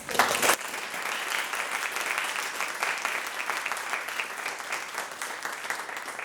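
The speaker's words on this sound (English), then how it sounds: "let's give them a round of applause" Steady audience applause at a book event, a sustained wash of many hands clapping that starts right after a brief louder burst and holds evenly to the end, with no talk over it.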